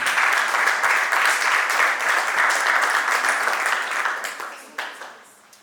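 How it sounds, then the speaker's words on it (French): An audience claps for itself at a youth leadership camp closing ceremony, a dense, loud wash of applause that holds steady and then tapers off toward the end. "Applaudissez pour vous-même."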